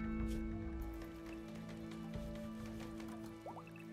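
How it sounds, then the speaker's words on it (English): Rain falling in the video game RimWorld, a soft, faint patter of drops under a steady game backdrop with a couple of brief tonal blips. "At least it's raining."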